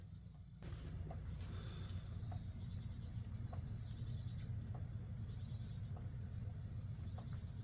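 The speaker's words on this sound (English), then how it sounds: "Birds are singing." Birds chirp and tweet faintly over a steady low rumble of a nearby idling tractor on a farm field during a slow drizzle, with scattered short calls and a few trills.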